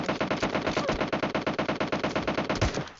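Rapid automatic gunfire in the PUBG Mobile video game, a steady burst of closely spaced loud shots continuing for the whole stretch.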